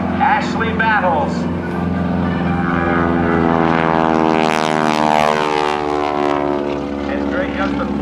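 A Stearman biplane's radial engine drones loudly during an airshow aerobatic roll at NAS Oceana. The pitch rises and falls as the aircraft manoeuvres close by, and it sounds continuously for the whole stretch.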